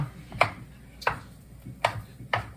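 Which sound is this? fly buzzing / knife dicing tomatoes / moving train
knife dicing tomatoes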